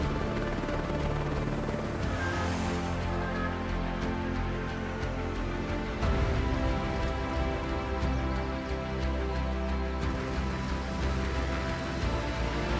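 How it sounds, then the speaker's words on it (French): Helicopters arriving during missions in Microsoft Flight Simulator, a steady rotor drone with dense layered hum and rattling texture held at constant loudness throughout, with a slight swell midway. "On va voir les hélicos qui arrivent dans Flight Simulator avec des missions"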